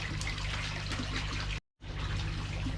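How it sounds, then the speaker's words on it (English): Koi fish splashing as it is slipped back into a garden pond, a continuous busy wash of water over steady low hum, with a brief dropout in the middle. "Let's get you back in to the pond, mate, before you jump out."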